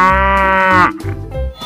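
Mother cow lowing loudly while being loaded onto a truck, one long, drawn-out moo up close followed by shorter, lower grunting calls.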